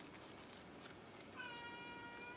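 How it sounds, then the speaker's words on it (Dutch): A cat wanting to go outside meows once, faintly and at a distance, against a quiet indoor background. "de kat is aan het mouwen. Die wil denk ik naar buiten toe."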